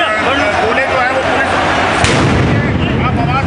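Police fire tear gas shells at a protest on the Delhi-UP border, with a sharp report cracking out amid dense crowd noise and shouting voices nearby.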